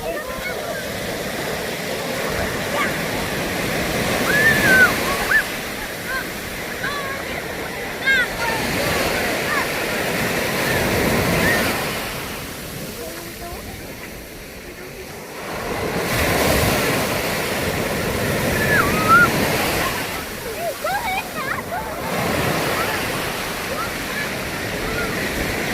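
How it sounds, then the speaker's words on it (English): Ocean waves roll in and break on a Cornwall beach, a steady wash of surf rising and falling in swells with wind buffeting the microphone, fairly close and continuous. "Waves coming in."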